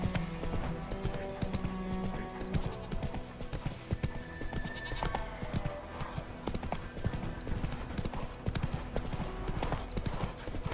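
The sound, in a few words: horse hooves clip-clopping, from the video game The Witcher 3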